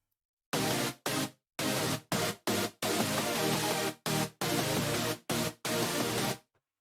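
Harsh, noise-rich UK hardcore synth chord layer playing alone in rhythmic gated stabs, bright and buzzy with abrupt cutoffs between each chord hit.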